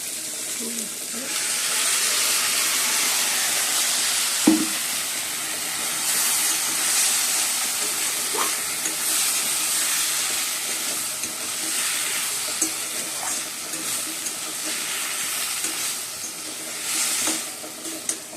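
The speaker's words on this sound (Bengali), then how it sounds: "ঢেঁড়স আলু সব ভেজে নিয়েছি এবার মশলাটা দিয়ে দেবো এর মধ্যে সর্ষে আর পোস্ত" Okra and potatoes fry in a pan with a mustard and poppy seed spice paste, giving a steady, close sizzling hiss throughout with a few soft clicks and knocks from the pan.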